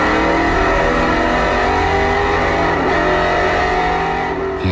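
A racing car engine holds a steady, loud, harmonic drone throughout a lap, close and alone, with no talk.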